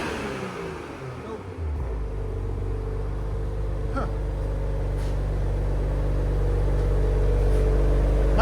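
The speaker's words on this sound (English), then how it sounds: "Nice idle. That's with the valve closed, guys." A Toyota Supra GR with an aftermarket exhaust idles with its exhaust valve closed, giving a steady, close, low rumble after a brief start-up rise, with faint clicks over the drone.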